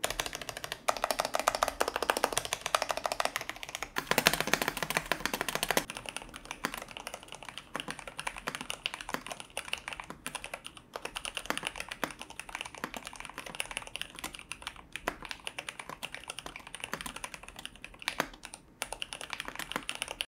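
Steady typing on a gasket-mount wireless mechanical keyboard, a dense run of soft, close keystrokes continuing unbroken with no voices.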